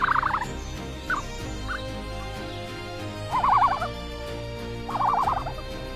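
Birds call at dawn on the African savanna, four loud warbling, gobbling bursts spaced a second or more apart, near and clear against a quiet low background.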